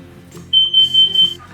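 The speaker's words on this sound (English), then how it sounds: "I just heard the smoke detector" A smoke detector alarm sounds a steady, piercing high beep that starts partway in and pulses a few times over low background hum.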